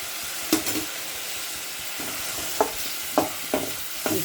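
Veg noodles with white pepper, dark soy sauce and tomato sauce stirred and fried in a pan, a steady sizzle with sharp scraping spatula strokes at irregular intervals, close and alone.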